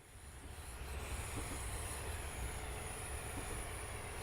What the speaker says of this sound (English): It's a funny train, it slows down when it's going downhill.